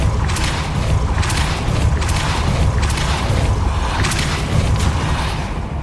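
A Depulso force spell cast in the video game Hogwarts Legacy, heard as a string of booming, whooshing bursts repeating roughly every second over a dense rumbling bed.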